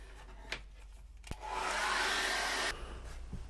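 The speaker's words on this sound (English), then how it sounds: "dry that off with a hairdryer, I think." A hairdryer blows over a card freshly painted with acrylic paint, a close, loud steady whoosh lasting just over a second after a couple of small knocks, with faint background hum.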